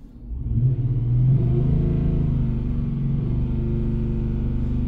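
A Mercedes E63 AMG V8 with a misfire rises from idle and holds a steady rev around 3,000 RPM, a deep, loud, close rumble that stays constant with a slightly uneven throb and no talk.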